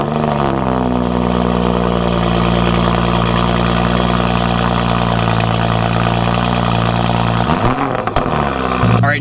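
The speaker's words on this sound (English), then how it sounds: "let's do a cold start" A car with an AWE Touring Edition exhaust fires up from a cold start and settles into a loud, steady, droning high idle close by, with a brief rev change near the end.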